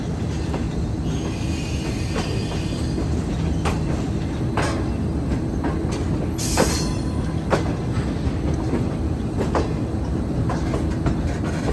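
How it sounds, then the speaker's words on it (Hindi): Trains at Khanewal station on a Shalimar Express journey from Lahore to Karachi: a steady rumble of rolling wagons and wheels with scattered clicks and a brief high wheel squeal, continuous and close. "खानेवाल पर 2 ट्रेनें मौजूद हैं।"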